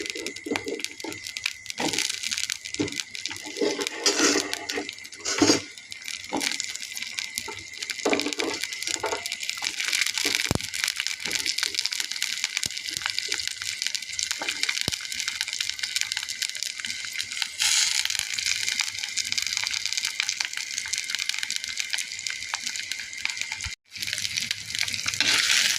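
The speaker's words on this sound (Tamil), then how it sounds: "ஆயில் விட்டுட்டு வெங்காயத்தை போட்டுக்கேன்." Sliced onions sizzle in hot oil in a pan while cooking onion chutney, a steady crackling hiss with scattered pops and occasional stirring clatter, no talk.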